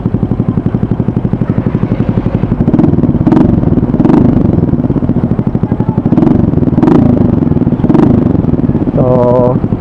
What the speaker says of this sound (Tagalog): yan yung tunog ng SC Project kapag ang silencer mo isa lang tapos dito nakakabit